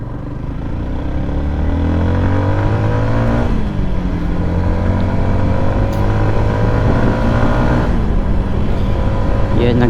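An engine revs hard toward 6,500–7,000 RPM as its VVA variable valve system engages. It gives a loud, close drone that rises in pitch, dips briefly near the middle and then climbs again.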